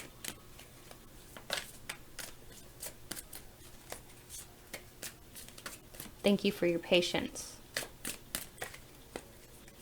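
Tarot cards are shuffled in a series of soft riffling bursts and taps, close and quiet, with a brief spoken phrase partway through.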